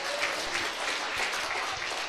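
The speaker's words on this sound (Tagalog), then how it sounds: "Palakpak ka na Jesus." A church congregation claps steadily together during Ilocano preaching on the end times, a dense, sustained burst of applause filling the room without pause.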